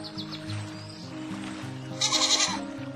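A goat in a farmer's folk tale bleats several times in quick succession, the wavering cries standing out loudly over a steady musical backdrop.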